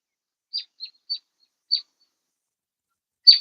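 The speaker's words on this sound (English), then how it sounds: "I don't know if y'all can hear the birds are out there singing." Birds call outdoors in the morning: five short, bright chirps come one by one with pauses between them against an otherwise silent background.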